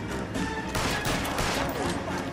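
Gunfire aimed at a suspect running away in the video game L.A. Noire, a dense burst of loud shots rolling over one another for a couple of seconds amid busy game noise.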